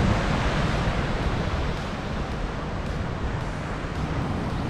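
Sea waves break on the shore at Ganpatipule in a continuous broadband wash with no voices, loud and steady at first and then slightly softer.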